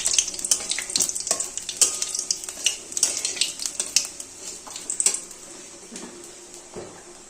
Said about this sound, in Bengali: এবার এটা নাড়া দিয়ে দেখবেন জানি এইটা মশলাটা পুড়ে না যায়।